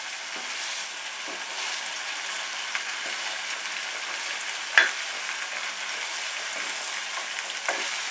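Haddock simmering in tomato basil sauce in a pan gives a steady, close sizzle and bubbling hiss, with a soft utensil scrape as the mixture is stirred and one sharp clink near the middle.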